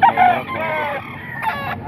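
Close, loud rooster crowing among caged chickens at a market, two crow phrases in quick succession with a brief dip between, no voices present.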